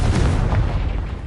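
A Confringo spell explodes in Hogwarts Legacy: a single loud, booming blast with a deep rumble that fades over about a second.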